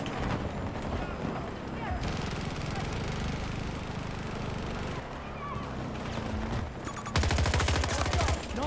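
Battlefield 2042 gunfire crackles through dense in-game combat noise, with scattered shots, a rumbling engine bed and a burst of rapid automatic fire near the end.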